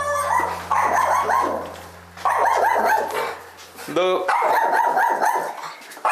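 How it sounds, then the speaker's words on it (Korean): A pet dog at home barks loudly and excitedly at a visiting trainer on a Korean problem-dog TV show, in repeated close bursts of barks and yips while people talk. "그치, 나한테 당연히 짖어야 정상이지"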